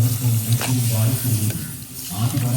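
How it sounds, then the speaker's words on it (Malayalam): Water poured into a cooking pot during pickle preparation, a steady splashing pour over a constant hum, with people talking over it. "ശകലം വെള്ളം ഒഴിച്ചു കൊടുക്കാം"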